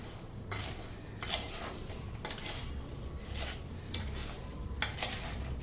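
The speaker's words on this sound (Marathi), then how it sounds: "हे बघा साखर छान हलवून घेतली" A spoon stirs sugar through cut lemons in a bowl for a quick sweet-sour lemon pickle, producing close, repeated scraping and clinking strokes against the dish at a steady rhythm.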